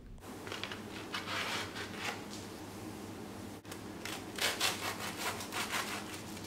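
A knife saws through a golden-brown toasted cheese sandwich, giving close, rasping back-and-forth scrapes with a short gap midway and no talking.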